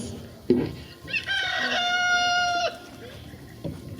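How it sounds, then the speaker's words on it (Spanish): Rooster crowing during an outdoor Holy Week passion play of Peter's denial in El Oro, Edomex, one loud drawn-out cock-a-doodle-doo preceded by a brief cluck, with crowd murmur in the background. "El gallo canta por segunda vez."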